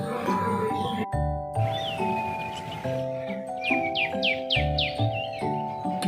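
Birds chirp in a village bean field, a quick run of bright rising tweets arriving midway, partly masked by a voice and steady tonal sound in the foreground.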